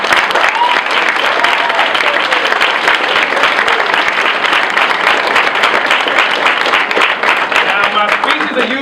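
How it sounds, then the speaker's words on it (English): A crowd at a documentary screening event gives loud, sustained applause, with dense clapping running continuously at close range throughout. "clap it up for yourselves for being here"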